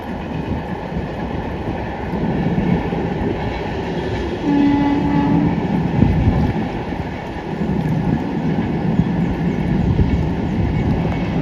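A train rumbles steadily across a railway bridge with a continuous heavy roar, a brief horn-like tone rising midway, no voices.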